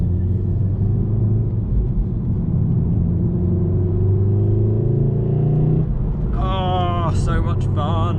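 VW Mk7 Golf R driving on the road, heard from inside as a steady low engine and tyre rumble with a rising pull, while someone talks over it.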